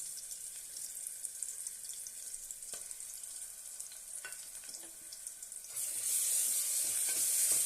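Sliced onion and ginger garlic paste frying in a pan for masala pulao, a continuous soft sizzle with occasional stirring scrapes, growing louder and hissier near the end.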